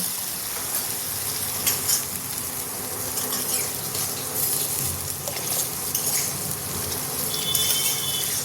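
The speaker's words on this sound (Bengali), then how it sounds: "পেঁয়াজ ভাজা হয়ে গেছে, দিয়ে দিচ্ছি জল।" Water poured into a pan of fried onions gives a steady gushing, hissing wash that continues throughout at moderate volume, with a brief bright tone near the end.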